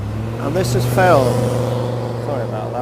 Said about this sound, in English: I'm out in the open at the moment and cars and things are going past